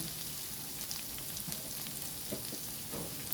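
Eggplant frying in a pan for binagoongang baboy, a steady close sizzle with light crackles and pops, no voices.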